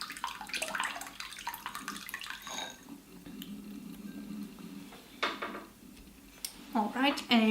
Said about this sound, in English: I have some warm water, so I'm gonna pour a little bit into the mixing bowl.